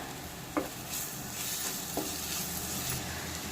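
Rice with raw banana masala is stirred in a pan, giving a soft, continuous sizzle with a few faint scraping taps from the spoon, quiet and close.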